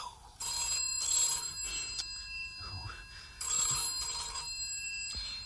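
Telephone ringing indoors, two long bursts of an old-style bell ring separated by a pause, with quiet talk between and around the rings.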